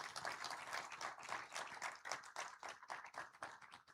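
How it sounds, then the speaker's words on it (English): Applause at a youth STEM innovation bootcamp event for a speaker who has just finished; fairly faint, steady clapping from a gathered audience, lasting about four seconds with no talking. "another round of applause for him."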